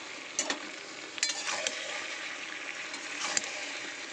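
Soaked soya chunks being sautéed with spices in a pan, a gentle steady sizzle broken by a few scraping stirs of the spoon, close and moderately loud.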